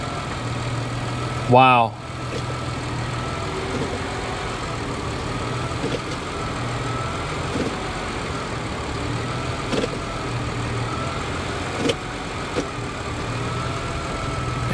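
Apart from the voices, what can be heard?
Nissan Armada engine idling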